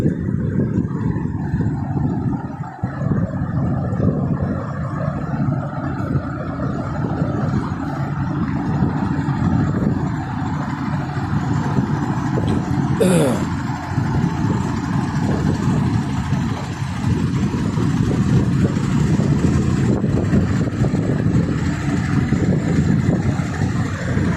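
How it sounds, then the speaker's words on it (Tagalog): Truck engines run steadily, a loud continuous low rumbling drone with an idling character that holds without pause, close by, with no talk over it. "Maingay yung yung mga makina ng truck guys. Umaandar."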